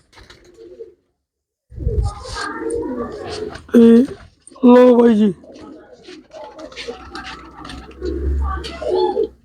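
Pigeons coo in short bursts, several droning calls rising clearly between stretches of someone talking nearby.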